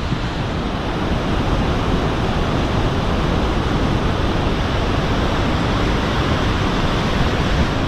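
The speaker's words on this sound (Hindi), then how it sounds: "ये मुझे पहली वाटरफॉल नज़र आई है जो इस रोड पे मुझे मिली है" A tall roadside waterfall on the road to Skardu roars as a dense, constant rush of falling water, loud and close, with no pauses or other sounds.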